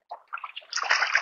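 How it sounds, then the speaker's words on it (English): An AquaBLAST 20L water bag is dunked and filled underwater, giving a few close gurgles and bubbling pulses that build into a sustained splashing, sloshing rush of water filling the bag. "You just kind of dunk it underwater."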